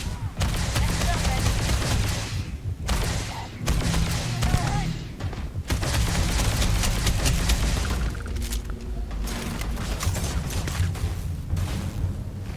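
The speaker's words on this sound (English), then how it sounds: "Who's shooting at me now?" Sustained gunfire in a Starfield space firefight, dense bursts of shots and thuds running almost continuously at close range, with a few brief gaps.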